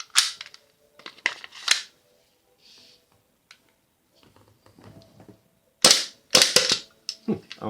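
A tan WE Glock 17 airsoft gas pistol fires a few sharp cracks early, then a quick string of loud, snappy shots near the end, with quiet handling clicks in between.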